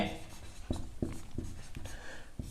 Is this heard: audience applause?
no